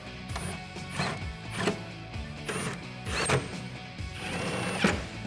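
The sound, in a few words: tightening bolts with a T30 Torx driver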